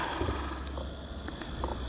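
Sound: cicadas singing in summer heat

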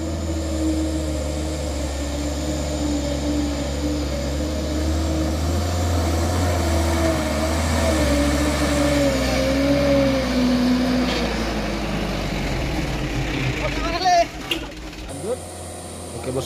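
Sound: Mitsubishi Canter 125 truck engine revving

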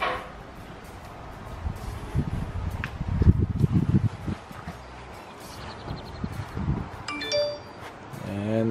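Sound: security camera system notification sound

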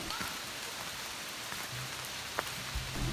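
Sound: heavy rain

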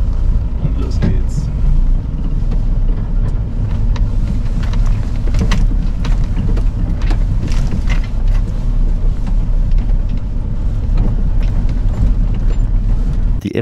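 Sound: expedition motorhome driving off down a steep track in first gear

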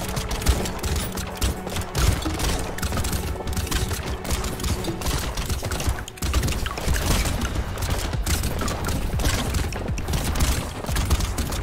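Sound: gunfire in video game Brotato

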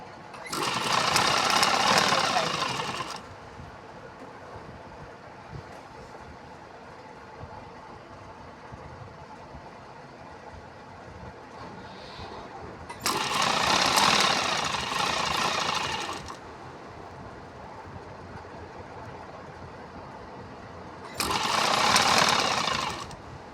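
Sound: sewing machine stitching a T-shirt sleeve

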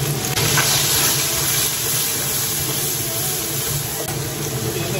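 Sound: stir-frying lean pork with chopped chili sauce in a wok

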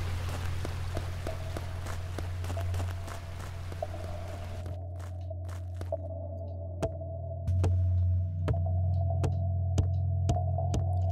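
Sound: footsteps jumping on hollow rock in video game Lost Ruins

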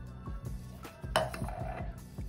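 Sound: mixing jello with water in a bowl

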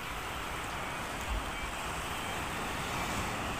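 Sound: sea waves

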